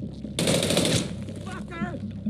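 Gunfire in a video game: a short, loud burst of rapid automatic shots up close, then a pause with a shouting voice over background game sound.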